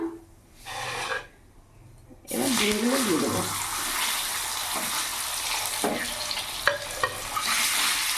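Duck eggs fry in hot oil seasoned with salt and turmeric, a dense, close sizzle that bursts in after a quiet start with a brief voice, then continues steadily with occasional clinks and scrapes.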